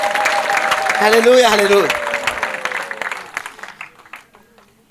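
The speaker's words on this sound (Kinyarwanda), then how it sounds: "muyikomera amashyi" Applause rises at a church prayer service while a voice sings and calls out over it, and the clapping thins into scattered claps and fades toward the end.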